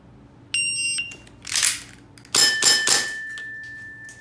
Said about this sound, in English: It will only recognize when the BB contacts with the target.